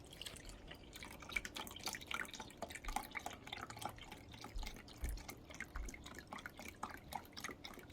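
Beef broth is poured into a Ninja Foodi pot for spaghetti, a faint, steady trickle and patter of liquid with soft splashes in a quiet kitchen.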